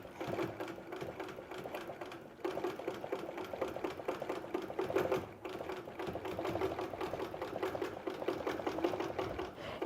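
A Grace Q'nique 16x Elite quilting machine stitches a sunflower quilt block with a continuous fast mechanical hum and rapid needle clatter, fairly quiet and close, with brief pauses in between.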